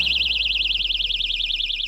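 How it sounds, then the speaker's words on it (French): A personal safety alarm keychain shrieks continuously with a fast warbling, siren-like high tone, steady and loud throughout, over a low background hum. "C'est une alarme que Luisa espère ne pas avoir à utiliser."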